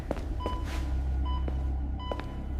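Sharp electronic beeps sound at uneven intervals over a steady low rumble, some single and some doubled, with no regular rhythm.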